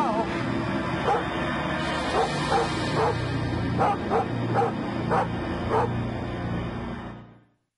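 A dog barks and whimpers in repeated yips and bow-wows over a steady low background hum, fairly close and loud, with voices nearby before it cuts off.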